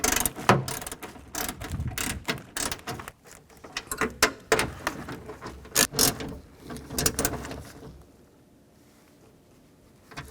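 Hand ratchet snugging bolts on a Ford E-250 van's power window regulator, a run of close, dense clicking bursts and mechanical rattles for about eight seconds, then near quiet.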